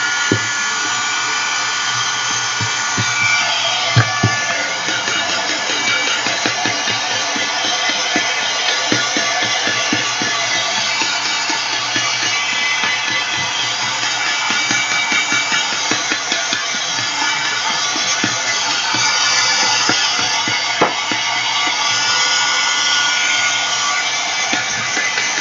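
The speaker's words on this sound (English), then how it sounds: "Don't keep your heat gun in one place for too long" A heat gun blowing hot air over a painted collage bag, a continuous loud whooshing hiss with a motor whine, steady for the whole stretch, with small clicks and no speech.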